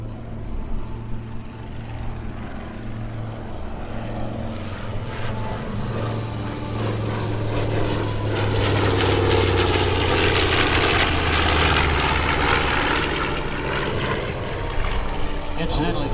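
B-25 Mitchell bomber roaring overhead at the 2015 New York airshow, a loud sustained piston-propeller drone that swells in the middle and lingers, with an announcer talking over it.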